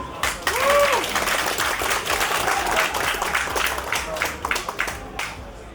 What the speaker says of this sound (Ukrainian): і аплодисменти глядачів.